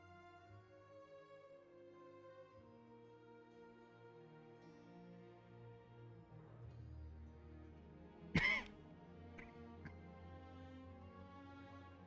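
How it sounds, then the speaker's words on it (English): A single short cough breaks in over soft, sustained music playing quietly in the background. "Just a cough."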